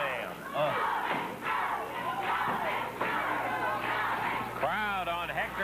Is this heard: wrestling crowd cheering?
yes